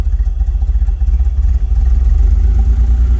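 A 1981 DeLorean DMC12 idles just after a cold start, with the car recently back from frame repair and suspected of a vacuum leak. The engine gives a loud, close, lumpy rumble with a pulsing, uneven beat and no talk.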